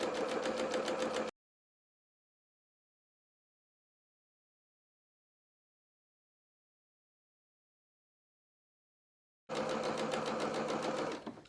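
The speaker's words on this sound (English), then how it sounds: "we're just going to sew all the way along here so that the zig is going into the fabric" A sewing machine runs a zigzag stitch along a fabric edge in two short bursts of rapid mechanical chatter. A long silent gap falls between the bursts, and the sound is close and clear with no talk.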